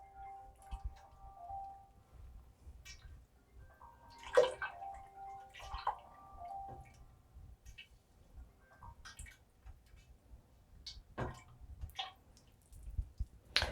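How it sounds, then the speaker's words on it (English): Water poured into a glass jar to rinse out leftover honey while making elderflower mead, with intermittent splashing, trickling and clinking against the jar amid quiet pauses. "we're going to add a little bit of that water to loosen up the rest of that honey and get it all out of the jar"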